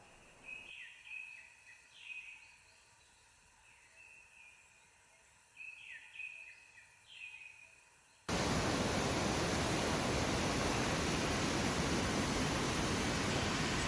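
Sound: birdsong and flowing water in a Chiang Mai rainforest

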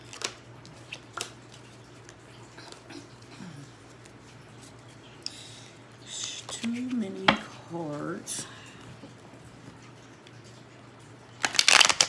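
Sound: shuffling tarot cards

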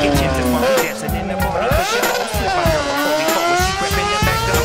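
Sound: car cross racing car driving

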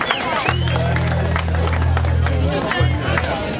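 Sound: audience applause for a band

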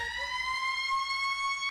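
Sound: person screaming in imitation of a siren

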